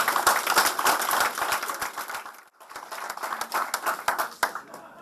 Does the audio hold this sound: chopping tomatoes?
no